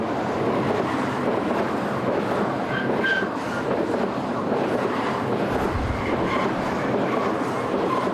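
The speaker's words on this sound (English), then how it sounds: "Here number 16 and number 6 head a southbound train of lorries." Two BLS Class 465 electric locomotives haul a southbound freight train of lorries past at close range, a loud continuous rumble of wheels and rolling stock with a steady roar and faint squeals throughout.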